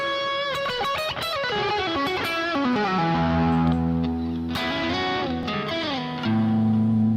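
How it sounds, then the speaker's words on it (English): An electric guitar played through a Dr. Z amp gives a driven, slightly distorted tone. Melodic lines descend into sustained low chords, steady and loud with no talking. "I just love, that's one of my favorite guitar tones."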